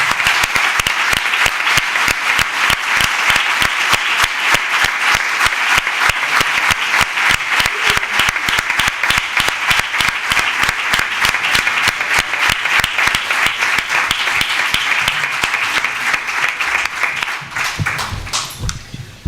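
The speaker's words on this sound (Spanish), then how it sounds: "Permítame que les pida un unánime y cálido aplauso en memoria de este magnífico pozolvense" Audience at a book presentation in Pozoblanco gives sustained, dense applause in memory of a local figure, loud and steady for nearly twenty seconds before thinning out at the end.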